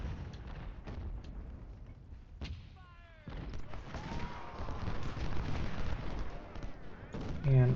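Scattered gunfire and distant artillery-like booms from the Civil War strategy game Ultimate General: Civil War, a steady rumbling battle din with sharper cracks, growing louder and denser toward the end.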